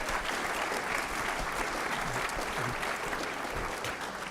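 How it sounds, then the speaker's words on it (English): Audience applause at an elevator pitch competition rolls on evenly for several seconds, dense and steady, with faint voices mixed beneath the clapping. "how about one more round of applause"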